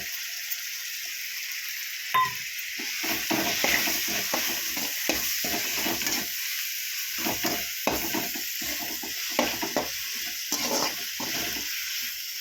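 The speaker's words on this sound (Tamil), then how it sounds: "இஞ்சி பூண்டு பேஸ்ட்டு சேர்த்தோன்னே நல்லா அது வதங்கி வரும்போது எண்ணெயில் அது ஒரு நல்ல மணமாக இருக்கும்." Ginger garlic paste frying in oil for a crab gravy, a continuous hissing sizzle broken by repeated spoon-stirring scrapes and clatters, close and fairly even throughout.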